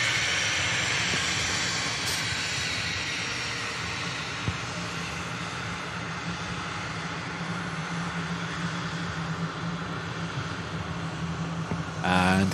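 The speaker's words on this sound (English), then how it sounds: "Cessna citation coming in" A Cessna Citation business jet arrives at Manchester Airport, its engines making a steady, moderate rumble and whine, with occasional talk nearby.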